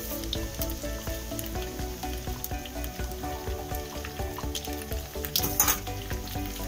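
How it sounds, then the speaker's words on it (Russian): Veal and onion fry in a pan with a steady, close crackling sizzle and scattered pops, swelling briefly near the end. "Мясо обжариваем до румяного цвета."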